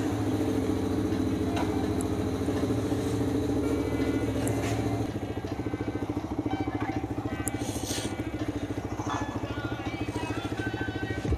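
A Yamaha R15 motorcycle engine idles while warming up on a foggy morning, a steady close rhythmic putter without revving, dipping slightly midway, with faint clicks and no speech.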